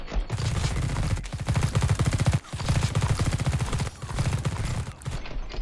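Rapid automatic gunfire in The Red Solstice, a space marine tactical game, rattling in long sustained bursts with a few brief gaps between volleys.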